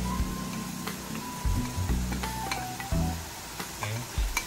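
Carrots are sautéed in a pan, giving a continuous close sizzle broken by repeated clattering stirs and spoon scrapes against the metal, with no voices over it.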